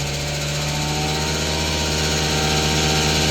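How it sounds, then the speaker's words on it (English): A vacuum pump starts up and builds vacuum, a loud steady mechanical drone with a low motor hum that holds evenly throughout, with no talk. "We're gonna put the vacuum on. We're gonna turn the power up. We'll let the vacuum start building."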